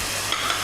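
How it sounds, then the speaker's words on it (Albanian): Meat and onion fry in a pan, giving a steady, close hiss of sizzling with a faint stir or two. The burst is very short and has no talk. "është bërë një skuqje e lehtë e mishit"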